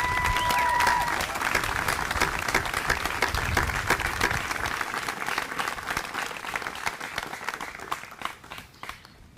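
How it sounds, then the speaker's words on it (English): A graduation ceremony crowd applauds the faculty: sustained clapping from many hands fills a large space, steady at first and gradually thinning and softening toward the end. "If we could just take a moment to share a round of applause"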